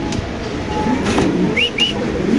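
Pigeons, fancy breeds including black Indonesian females at a bird market, coo softly amid steady background noise, with two short higher-pitched calls near the end.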